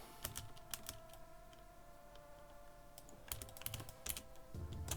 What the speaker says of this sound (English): I keep hitting the wrong keys on this keyboard.